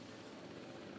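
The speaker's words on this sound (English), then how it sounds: "that's the guest helicopter" A guest helicopter in the Jurassic World Evolution 2 park game gives a faint, continuous rotor whir, steady and unbroken with no voices over it.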